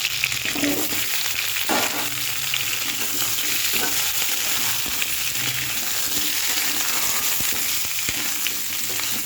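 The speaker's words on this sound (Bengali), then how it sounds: "এটা এবারে লাল লাল করে ভেজে নেব, সব কিছু ভেজে এটা আলাদা তুলে রেখে দেবো ভাজা" Carrot, pumpkin and vegetable stalks frying in hot oil make a steady, close sizzle and crackle throughout, with occasional stirring scrapes and no talk.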